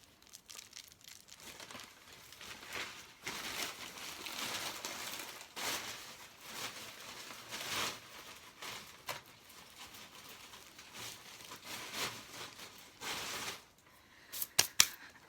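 A bag of last year's dried lavender is rustled and crinkled at close range. The crackle comes in soft, irregular bursts, and a few sharper clicks come near the end.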